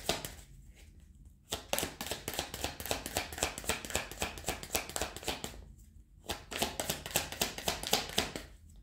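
Oracle cards being cut and shuffled by hand, a dense run of quick papery riffles and taps that pauses briefly twice, close and fairly loud with no talking.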